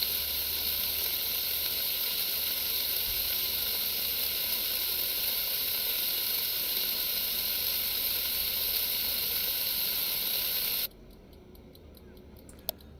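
Steady, dense sizzling of food frying in a pan in the Cooking Simulator video game, a loud continuous hiss that cuts off abruptly near the end, leaving near silence with a faint click.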